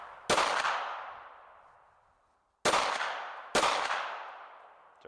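Three sharp VP9 pistol shots ring out at an outdoor range, loud and close, each followed by a long decaying echo; the first two are spaced about two seconds apart and the last comes soon after.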